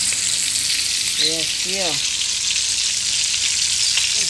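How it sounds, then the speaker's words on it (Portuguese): Mackerel fries in a pan with a steady, bright sizzle that fills the whole clip, close and constant, while a person speaks briefly over it. "Cavalinha, ó, tá fritando."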